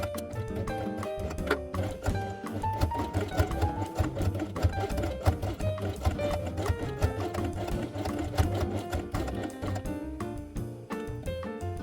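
A sewing machine runs steadily, stitching a fabric quiet book page along a marked line, with a continuous dense mechanical whir close up and no pauses across the span.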